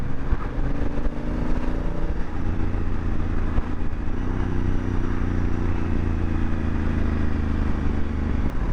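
A Honda Africa Twin 1000cc twin-cylinder motorcycle engine runs steadily nearby, a loud continuous throbbing rumble with a brief rise in revs partway through and no talking.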